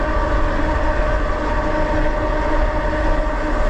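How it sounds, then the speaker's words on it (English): HiKEEP MA-T dual-motor all-wheel-drive electric bike riding along a road, a steady broadband motor whine and road rumble running continuously and fairly loud throughout. "the motor sound really smooth."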